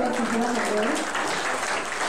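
Applause rises from an audience after a presentation at an Indigenous Mesoamerican pre-congress, dense and continuous, with a voice briefly heard over it at the start.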